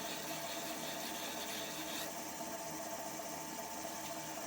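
A wooden goblet turned from a 2x4 is sanded with 100-grit paper, giving a steady, continuous hissing rasp at low volume, with no talking.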